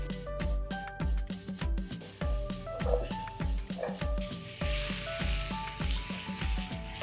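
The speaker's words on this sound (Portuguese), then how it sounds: "aqui a gente já vai fritar cebola e pimentão" Onions and peppers sizzle and crackle in a hot pan, with rhythmic scraping and stirring strokes repeating close by.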